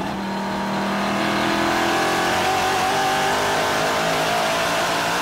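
NASCAR Whelen Modified Tour race cars thunder past at Thompson Speedway in the 2018 Sunoco World Series 150, a loud, continuous engine roar that rises and shifts pitch as the pack accelerates out of a corner.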